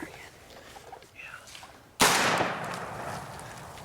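A single loud gunshot cracks out partway through a turkey hunt, following quiet field ambience with faint voices, and its blast decays slowly across open ground.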